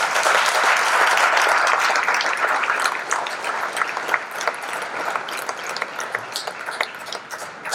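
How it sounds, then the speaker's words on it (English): Audience applause at a high school Ring of Honor award ceremony, starting as a loud, dense roar of clapping and thinning out into scattered individual claps as it fades. "How about another round of applause for both?"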